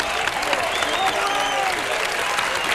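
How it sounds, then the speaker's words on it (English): A stadium crowd cheers and applauds right after a score at the 1991 World ultimate frisbee men's final in Toronto; the roar of clapping and shouting is dense, loud and continuous throughout. "The crowd definitely responding more when Boston scores than New York."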